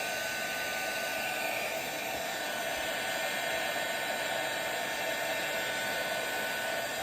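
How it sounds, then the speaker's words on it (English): A heat gun set to high blows on a baking soda and faux velvet Christmas ornament, giving a steady, loud, unbroken hissing whoosh with a faint high whine that holds throughout with no talk. "Let's try the heat gun, okay?"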